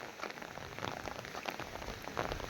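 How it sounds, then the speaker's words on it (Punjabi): Steady patter of rain falling on surfaces in Punjab farmland, fairly faint and continuous, with scattered drops ticking throughout and no voices. "ਅੱਜ ਸਵੇਰ ਦਾ ਮੀਂਹ ਪੈ ਰਿਹਾ"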